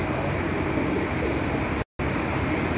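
Breeder's pigeons coo softly amid a steady, dense wash of background noise, with one brief moment of silence near the end.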